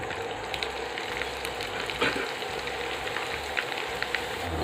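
Cassava chips fry in hot oil, producing a continuous crackling sizzle with scattered sharp pops, steady and close throughout without any talking.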